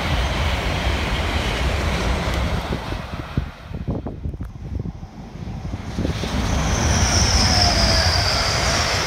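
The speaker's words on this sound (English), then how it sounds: "There's your freight, class 60." EWS Class 60 freight train passing at Tollerton, a loud sustained roar of wagons rolling by with wheel squeal and rumble, easing briefly midway before swelling again.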